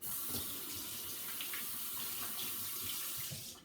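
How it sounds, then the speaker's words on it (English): Steady running water from a kitchen tap pours into the sink as hands are washed during homemade meatball pizza prep, a continuous close splashing hiss with no talk. "Let me wash my hands a bit."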